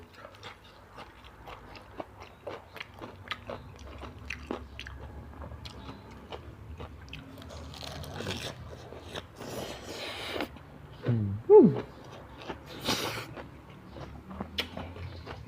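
Chewing crunchy fresh vegetables eaten with pounded apple snails, close-up wet crunching and squishing bites in an irregular rhythm, fairly quiet with a louder burst near the end.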